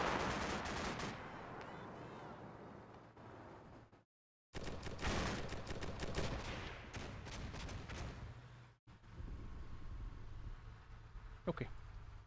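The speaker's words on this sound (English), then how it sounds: "I want to bring in my physical or my automated grenade launchers" Automated grenade launcher fire in Combat Mission: Black Sea: rapid bursts of heavy thumping shots, loud and close, broken by brief silences and followed by a sharp distant report.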